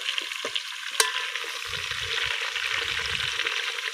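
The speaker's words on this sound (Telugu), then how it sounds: "అలా వేసి కలుపుకోవాలి. మంచిగా కలబెట్టుకోవాలి." A country chicken curry with mint is stirred in a sizzling pot over a village cooking fire, with a spoon clanking sharply against the pot a few times over steady frying crackle.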